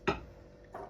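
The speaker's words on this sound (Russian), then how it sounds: "Так, берем сковородку." A metal frying pan picked up and set down in a home kitchen: one sharp clank followed moments later by a softer second knock, quiet and close.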